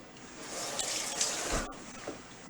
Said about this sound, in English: if you run water over a knife